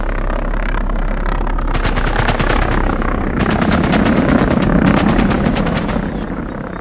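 Rapid bursts of automatic gunfire in the shooter game Sniper Elite Resistance, loud and close, with dense rattling volleys and a steady rumbling battle backdrop throughout.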